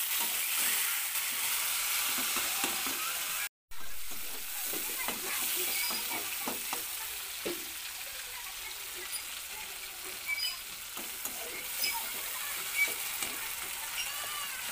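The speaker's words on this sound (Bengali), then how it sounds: "এখন দিয়ে দেবো টমেটোগুলো" Chopped tomatoes hit hot oil with lightly fried onion, setting off a steady, close sizzle and hiss with stirring scrapes. The sound cuts out for a split second early on, then continues evenly.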